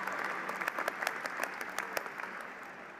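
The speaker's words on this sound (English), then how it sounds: "Huge round of applause for Leah, the sole recipient of the Bachelor" Applause at a 2022 university commencement ceremony, a steady burst of clapping from an indoor crowd with scattered sharp claps over a constant patter, lasting a few seconds.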